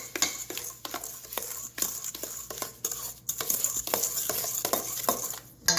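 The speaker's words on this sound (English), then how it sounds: "Adding in a cup of sugar. I'm going to mix this together." Sugar is stirred into Hershey's chocolate syrup in a bowl, a close, continuous scraping and swishing with rhythmic utensil clicks against the sides.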